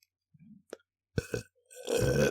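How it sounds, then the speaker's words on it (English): A long, rumbling burp rolls out close to the mic during a casual podcast chat, stretching on with a sputtering tail and a loud final swell. "Oh my gosh, that burp won't quit."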